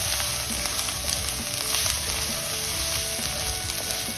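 Ground coriander and chili powder frying in a pan for dhaba-style moong dal tadka, a dense, close crackling sizzle that holds steady throughout.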